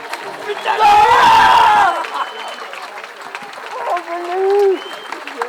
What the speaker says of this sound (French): faire un tonnerre d'applaudissements pour un grand champion